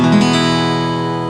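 A single downward strum across all strings of an acoustic guitar, fingered as a beginner chord, rings out loud and close and decays slowly with no talking.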